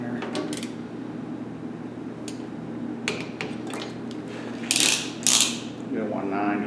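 Socket ratchet turning on a vintage 1976 6HP snow blower, with a few quick clicking bursts and two louder rapid ratcheting runs near the end, close by over a steady low background.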